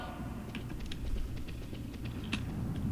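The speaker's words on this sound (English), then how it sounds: "And we'll get your typing on the replay as well." Keys clatter on a computer keyboard during a Metal Gear Solid replay session, irregular clicks and taps over a steady low hum of game sound.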